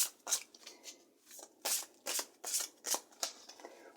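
Tarot cards being shuffled by hand in short, crisp riffling bursts, close and fairly quiet, repeating in an uneven rhythm with no talking.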